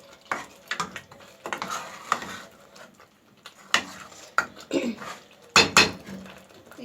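Chicken karahi is stir-fried in a pan. A spatula scrapes and clinks against the metal in irregular bursts, with a faint sizzle underneath.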